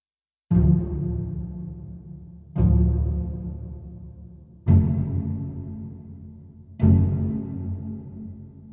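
Four close-voiced pizzicato string chords, each a sharp plucked attack that rings and decays in a large warm hall reverb, evenly spaced about two seconds apart.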